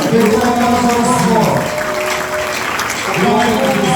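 A church congregation at a New Year's Day worship service applauding, steady dense clapping mixed with singing voices and crowd noise throughout.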